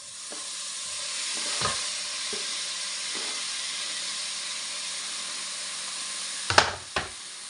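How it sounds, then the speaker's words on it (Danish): Small pieces of bacon fry and brown in a pan with a steady, bright sizzle, broken near the end by a couple of sharp clacks as the pan or utensil is handled. "Så skal det lige op på panden og brunes lidt af."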